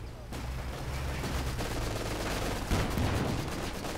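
Sustained machine gun fire from a Company of Heroes 2 battle, a dense continuous rattle of bursts with heavy low rumble, growing louder and harsher near the end, alongside other battlefield noise.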